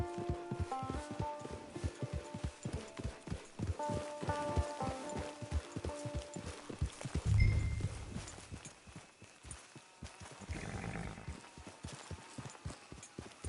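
Horse hooves clip-clop steadily at a walking pace in the video game Red Dead Redemption Online, with music playing over the rhythmic footfalls and a louder thump partway through.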